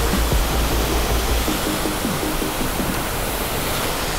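A waterfall in Iceland roars from close by, a loud, constant broadband rush of falling water with deep low rumble and no voices.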